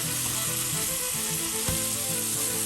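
Striped bass fillets pan-frying, a steady, loud, continuous sizzle with faint stirring ticks and no voices.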